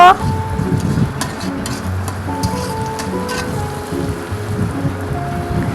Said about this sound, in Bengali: তারপরে পেঁয়াজ আর কাঁচামরিচ তেলে ভেজে নেব